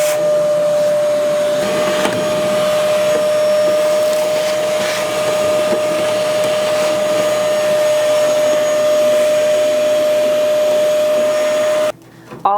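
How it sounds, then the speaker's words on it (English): A vacuum cleaner runs steadily and loudly up close while cleaning the cast iron elements of a wood cookstove, a constant high whine with a tonal hum, cutting off abruptly near the end. "I'm just going to vacuum those off as well"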